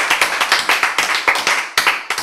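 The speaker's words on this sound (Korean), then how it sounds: "박수 한번 쳐야 돼" A single person claps their hands in a quick run of sharp, evenly paced claps, close and loud, in a lecture setting with no talk over it.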